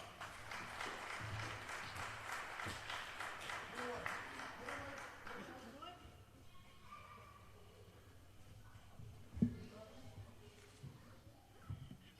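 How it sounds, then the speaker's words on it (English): Audience applause at the Great Northern Arts Festival evening concert for a guitarist and singer, a dense, steady clapping that fills the first half and then thins into scattered claps and room murmur. "Give her a big round of applause."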